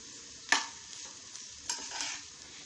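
Grated coconut roasting in a pan over a low flame for a crab curry, with a soft, steady sizzle and two distinct scraping stir strokes from a spoon across the pan.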